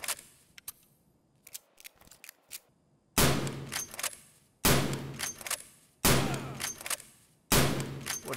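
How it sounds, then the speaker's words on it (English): Bolt-action rifle in the Escape from Tarkov video game firing four loud, sharp shots at intervals of roughly one and a half seconds, each with a ringing tail, following quieter clicks and handling sounds. "these bolt actions, they just take forever to shoot"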